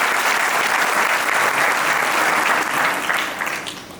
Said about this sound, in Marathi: त्याच्याकरता सगळ्यांनी जोरदार टाळ्या वाजवा.